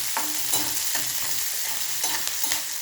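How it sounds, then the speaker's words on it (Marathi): Curry leaves and onion sautéed in a pan for a traditional sattvic Sai Baba offering meal, a dense continuous sizzle with regular scraping stirs every half second or so, close and with no voices. "कढीपत्ता पण टाकते परतून घेते आता"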